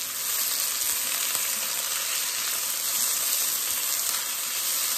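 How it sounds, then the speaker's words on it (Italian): Sliced onion fries and browns in a pan, giving a steady, even sizzling hiss that runs unbroken and fairly close, with no talking over it. "Ora abbiamo la cipolla bella imbiondita, vedete, ma non cotta, proprio deve essere così"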